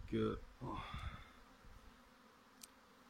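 A honeybee swarm that has just left its hive, gathered for collection: a low, faint buzzing hum continues beneath a short burst of speech at the start.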